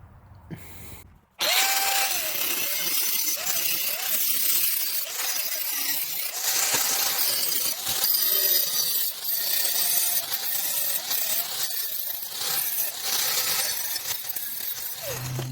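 A power tool cuts through a piece of scrap metal for a reindeer sculpture. After a brief quiet start there is a loud, continuous grinding screech whose pitch wavers as the cut goes on.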